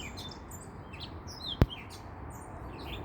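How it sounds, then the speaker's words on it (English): Small birds chirp outdoors in short, bright, scattered calls over a steady hum of background noise, with one sharp click midway. "I can't believe these birds."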